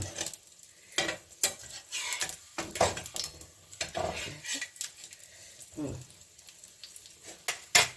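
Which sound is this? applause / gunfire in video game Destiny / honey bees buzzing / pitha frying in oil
pitha frying in oil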